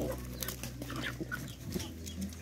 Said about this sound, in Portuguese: Olha como que as galinhas estão comendo o milho.